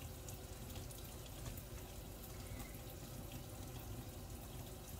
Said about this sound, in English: I'm going to start running the cold water.